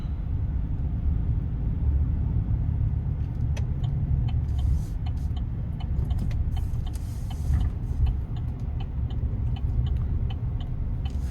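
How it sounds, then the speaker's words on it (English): A 2026 Chevy Silverado 1500 Custom with the TURBOMAX engine hums as a steady low rumble from inside the cab while driving, with tyre and road noise and light rattles over it. "I like the sound you get from the engine bay."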